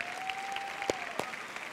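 Congregation applauding in a church, a brief steady wash of clapping from many hands at moderate distance, with a faint sustained tone running beneath and a couple of sharper claps standing out.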